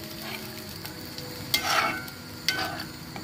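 Curry masala for mackerel jhal cooks in a pan just after water is poured in, with a low, steady bubbling fry broken by a few louder stirring scrapes.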